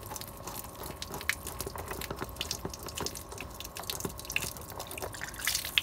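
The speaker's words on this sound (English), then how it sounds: "Should have some water coming out." Water trickles and drips from an unscrewed drain pipe on a 2013 Forest River Rpod 177 travel trailer during winterizing, a faint, irregular patter of drops and splashes.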